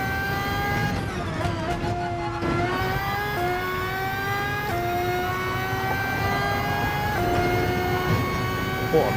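Red Bull X2014 race car in GT Sport, lapping the Nürburgring: a high, whining engine note climbs steadily through gears, dropping at each shift and rising again, loud and continuous throughout.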